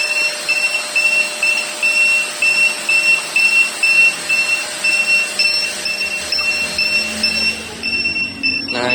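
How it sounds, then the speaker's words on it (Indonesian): A vacuum cleaner running while connected to a Sonoff POW Elite power monitor with a limit alarm, a loud steady motor roar throughout, joined partway through by a repeating high electronic alarm beep pattern. "kita coba nyalain lagi si vacuum cleanernya."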